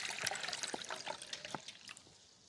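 Water pours from a container into a pot before a camping burner test, a near splashing trickle with irregular drips and gurgles that tapers off toward the end.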